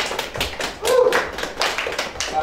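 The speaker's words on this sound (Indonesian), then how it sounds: "Tepuk tangan dulu dong, Zah." Hand clapping in a studio setting, a few quick sharp claps in irregular bursts, close and moderately loud, with a voice talking alongside.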